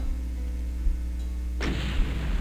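Rocket launcher firing in Doom TNT: Evilution amid a low rumbling game background, one sharp blast with a hissing burst that breaks in partway through, loud and close.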